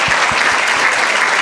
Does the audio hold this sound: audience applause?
yes